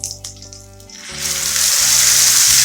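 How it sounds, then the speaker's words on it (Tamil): Ground tomato poured into a hot mustard-seed and curry-leaf tempering for sambar, rising from a brief splash into a loud, steady hissing sizzle close by, with no voices. "இப்போ வந்து நான் தக்காளி அரைச்சி வச்சேன் இதில் விடுறேன்"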